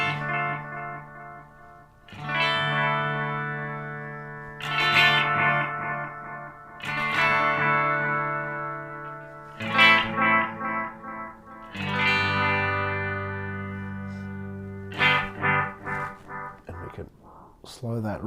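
Electric guitar chords ring through a Boss DD-7 delay pedal set to analog mode, each strum trailing repeats that fade quickly, sustained and moderately loud, with a few sharper plucked notes near the end.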